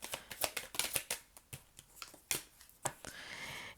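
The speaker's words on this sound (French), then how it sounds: "Je prends une dernière carte." Tarot cards handled and drawn from a deck, with a string of crisp, close snapping and flicking sounds at uneven intervals, ending in a brief softer swish.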